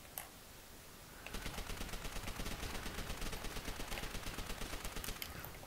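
Sustained gunfire and artillery barrage in the World War II shooter Call of Duty: World at War, a dense, rapid burst of shots and blasts that starts after a brief pause and continues steadily, close and loud throughout.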